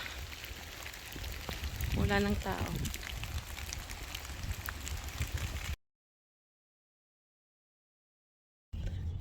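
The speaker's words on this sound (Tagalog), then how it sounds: "Lakas ng ulan, oh." Heavy rain falling on a roadside, a steady loud hiss of pouring water with a voice speaking over it, cutting to silence for a few seconds before the downpour resumes.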